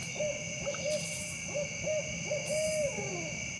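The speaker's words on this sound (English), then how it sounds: "we're hearing quite the loud owl" At night at a campground in High Falls State Park, Georgia, an owl calls close by with a series of loud, wavering hoots. Behind the hoots there is a steady high-pitched drone of insects.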